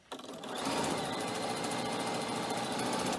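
Sewing machine stitching the lining of a cork messenger bag, a loud steady whirring motor with rapid needle chatter running continuously after a brief start, with no talking.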